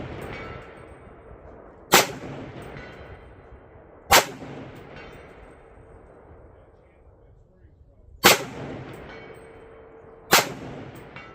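Four sharp rifle shots from a 7.62x39 cartridge crack outdoors at spaced, irregular intervals, each loud report trailing off into a short echo, with quiet talk in between.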